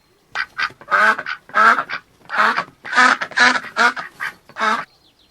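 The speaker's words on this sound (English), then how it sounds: "Duck." A duck quacking close by, about nine loud, raspy quacks in an irregular series with short pauses between them.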